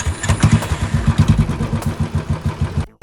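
A stolen motorcycle, hot-wired without a key by splicing its wires, starts up and settles into a loud, close, rapid chugging engine rhythm with metallic clatter.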